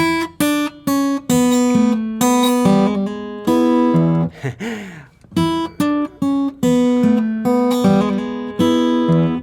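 Plucked acoustic guitar notes in a steady phrase with a slide in the middle, bright and close, no voices.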